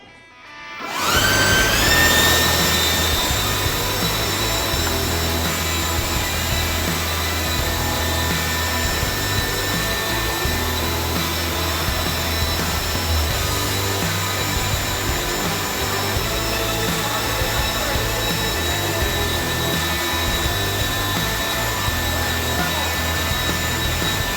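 Toro and Husqvarna leaf blowers running together in a head-to-head test, spinning up quickly into a loud, steady whine with a broad rushing-air roar that holds throughout.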